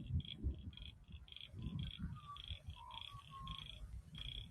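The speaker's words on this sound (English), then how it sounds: "Listen to the frogs." Frogs croak in a Japanese garden in Hartley, a steady series of short, repeated calls at moderate distance, with soft bird chirps and low outdoor rumble underneath.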